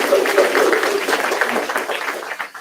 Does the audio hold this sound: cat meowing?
no